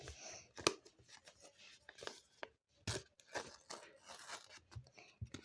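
A paper bag being opened during a phone case unboxing: close, quiet crinkles and tearing rustles in short irregular bursts, separated by brief pauses.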